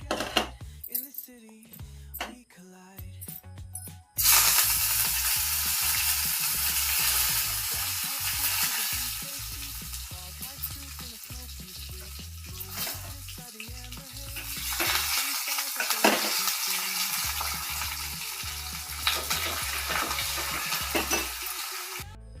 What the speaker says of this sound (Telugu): పోపు దినుసులు అన్నీ, వెల్లుల్లిపాయి, ఆవాలు, జీలకర్ర, ఎండుమిరపకాయలు, ఇవన్నీ మనం పోపు వేసుకుందాం.